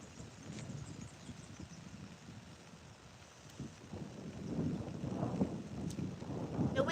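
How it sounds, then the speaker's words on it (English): Strong outdoor wind buffets and roars in gusts, rumbling low and building louder toward the end, with no voices. "The wind is really picking up quite bad."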